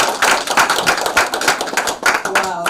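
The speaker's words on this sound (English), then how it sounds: "So we want to clap for them again." Uneven, fairly close clapping from a graduation ceremony audience honouring the speakers, sharp individual claps in a loose rhythm, with a voice speaking briefly near the end.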